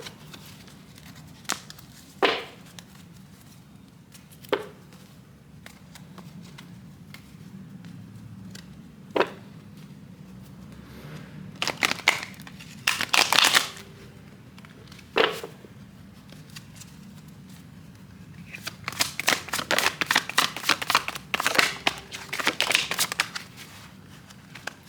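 Cards are shuffled for a card reading: scattered single taps and flicks, then short bursts of riffling and a longer flurry of rapid card patter near the end, close and otherwise quiet.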